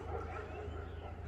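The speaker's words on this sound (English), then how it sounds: "I got every dog in the world barking at me" Several dogs bark together outdoors in a rural Appalachian coal-mining area, the yips and barks blending into a steady, continuous background din with no clear pauses.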